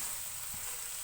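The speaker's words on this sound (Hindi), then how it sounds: "मेथी को हम 1 से 2 मिनट ऑयल में फ्राई करेंगे।" Fenugreek (methi) leaves fry in hot oil with a steady, even sizzle and hiss that runs without a break for about a second, close and alone with no voices.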